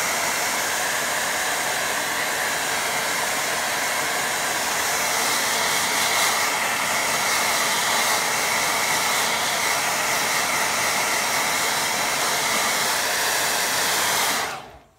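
A hair dryer blows steadily over a watercolour painting of a little cottage, a loud continuous whooshing hiss that cuts off abruptly at the end.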